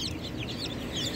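A young hybrid chick clucking in quick, close, continuous calls, heard alone without talk.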